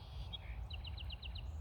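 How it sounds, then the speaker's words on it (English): Birds sing at a pond and wetland on a morning visit, a short series of high, quick chirps repeating over faint, steady outdoor background hum, distant and fairly soft. "Oh, I love the bird songs."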